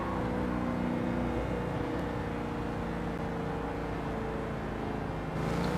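In Gran Turismo 7, a two-stroke snowmobile engine mounted at the back of a car drives its fans, giving a steady buzzing whir under a continuous engine drone with no talk.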